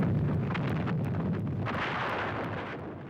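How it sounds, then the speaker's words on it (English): Wartime mortar fire and exploding shells in an infantry battle, a continuous heavy rumble of booming blasts with sharp cracks layered over it, loud and dense without pause. "mortar fire and shells and so on exploding."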